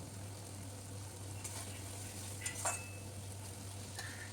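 Whole spices fry softly in a pan while being stirred, a faint steady sizzle with a few light scrapes and clinks of a spoon against the metal and a low background hum.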